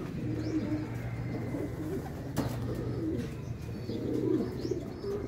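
Pigeons cooing and fluttering nearby amid steady outdoor background noise, with a brief burst of wingbeats as several birds arrive together.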